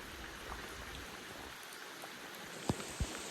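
Steady, soft rain patters down in a continuous hiss at a hilltop temple, with two brief sharper knocks near the end.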